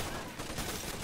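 Gunfire in the video game Splinter Cell: Conviction: a dense, continuous burst of shots fills the whole moment at moderate loudness, with no voices over it.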